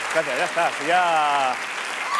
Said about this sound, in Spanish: muchas gracias por esto de aplaudir antes de que alguien haga nada